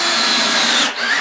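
Cordless power drill driving self-tapping screws with notched tips into the back of a panel board without pre-drilling, a loud continuous whirring run close by that dips briefly near the end before resuming.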